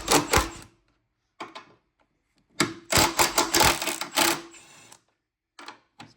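A 13 mm socket wrench loosens the strut top nuts on a 2003-2008 BMW Z4 E85, with several short bursts of quick ratcheting clicks and brief silences between them.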